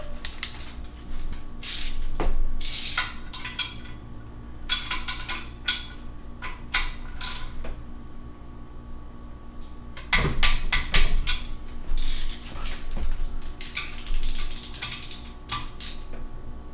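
A ratchet wrench tightens the bolts of an LSA supercharger being assembled onto a C5 Corvette LS1 engine, giving close, crisp clicking in several short bursts separated by pauses, with no talking.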